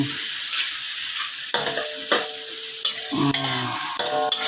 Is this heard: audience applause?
no